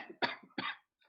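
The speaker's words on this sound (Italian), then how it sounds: "ma ho preso un colpo di tosse" A performer on an Italian variety broadcast coughs twice in quick succession, two loud harsh bursts close to the mic, followed by a brief faint throat sound.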